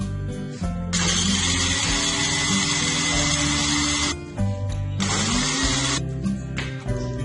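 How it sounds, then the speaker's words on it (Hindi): Eggshells being ground to powder in an electric grinder: two loud, steady whirring bursts with brief pauses between them, close by and with no talking. "अंडों के खोल डालकर आप उनको अच्छी तरह ग्राइंड कर लें, ताकि वो एक पाउडर की शक्ल तैयार कर लें"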